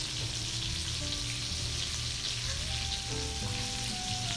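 Sausage frying in a pan while shrimp marinates nearby: a steady, dense sizzle and crackle that holds close and even throughout, with no talking.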